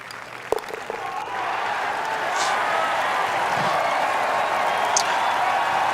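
Golf gallery in the EA Sports Rory McIlroy PGA Tour video game bursting into sustained applause and cheering after a brief quiet moment, a steady wash of clapping that holds at full volume.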